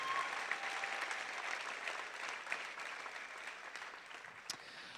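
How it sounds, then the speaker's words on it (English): Steady applause from an audience at a 2017 school graduation, moderately distant and sustained for several seconds with no voices over it. "let's give them another round of applause"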